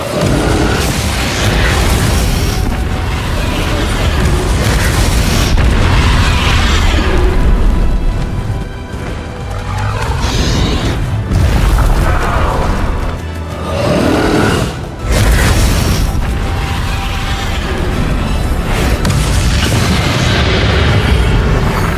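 Spell explosions from Bombarda in the Hogwarts Legacy video game boom again and again through a dense, loud battle mix, with heavy blasts and crashing debris and no talk.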